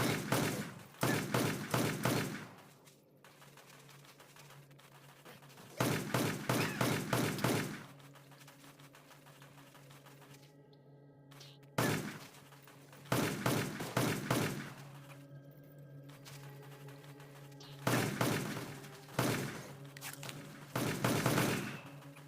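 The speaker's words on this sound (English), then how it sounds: "it's just a lot of shooting and going back and forth" Gunfire in the mobile shooter Westland Survival comes in repeated rapid bursts of shots, separated by short quiet gaps, with thumping impacts and a low background hum.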